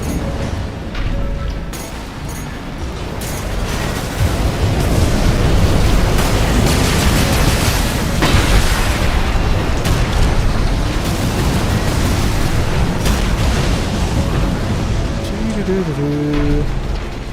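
Missile explosions from an Armored Core 6 mech fight, a continuous dense roar of booms and bursts that stays loud from about four seconds on, with a few faint tonal game sounds underneath.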